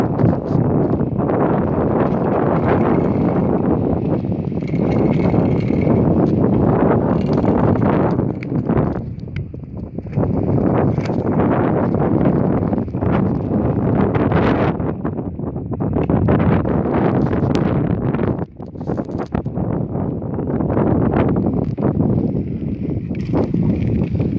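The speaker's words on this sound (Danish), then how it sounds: "Ja, det er bare vind på vind, så I ved det." Strong wind buffets the microphone during a short outdoor ride, a loud continuous rumbling roar that barely lets up for the whole stretch.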